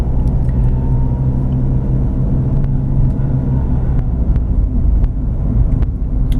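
A 2007 Ford Escape Hybrid cruises up and down hills, a steady low road and engine rumble heard from inside the cabin with some wind noise and faint scattered clicks.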